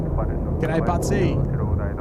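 A Korean Air airliner arriving from Sydney rolls along the runway at Seoul Incheon airport, giving a steady, broad roar throughout with voices talking over it.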